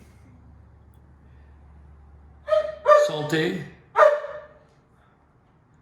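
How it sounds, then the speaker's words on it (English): Several barks from a couple of dogs in the background, coming in two sharp bursts and standing out clearly over otherwise quiet surroundings, with a brief word spoken nearby. "there's a couple of dogs behind me trying to kill my mojo right now"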